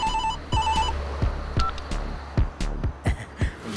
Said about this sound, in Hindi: ये वायरलेस फोन है मैडम।